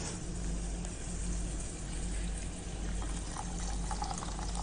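A little water poured into a pot while cooking ghee coconut milk biryani, a steady, soft continuous pour with a low background hum, no talking.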